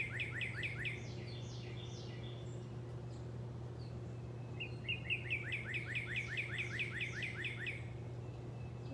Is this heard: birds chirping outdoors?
yes